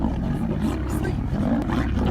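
Lions on the African savanna, rival males vying for dominance in a pride, give a deep continuous roaring rumble that fills the whole stretch, loud and close, with no talk over it.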